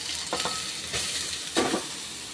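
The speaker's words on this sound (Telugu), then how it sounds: "ఫైవ్ మినిట్స్ ఈ నెయ్యిలో క్యారెట్ని వేపుకోవాలండి" Grated carrots sizzling in hot ghee for carrot halwa, a continuous close frying hiss broken by a few scraping stirs of the spoon.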